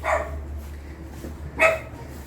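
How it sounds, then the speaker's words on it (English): Dogs kept in the back of a house with a front-yard business in the tropics give two short barks, one at the start and one near the end, over a steady low hum. "He's got their dogs in the back."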